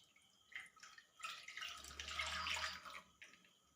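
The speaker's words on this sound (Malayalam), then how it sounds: "ഈ ജ്യൂസ് ഇതിലോട്ട് ഒഴിച്ചു കൊടുക്കാം." Watermelon juice poured into a pan on a stove for pudding, a soft, steady liquid splash that rises and fades over a couple of seconds, quiet and close, with no talking.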